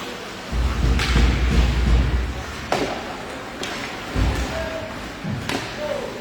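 An ice hockey player is body-checked into the boards during a game, giving a dull thud among rink noise and skate scrapes, with several further knocks and crowd ambience at moderate distance.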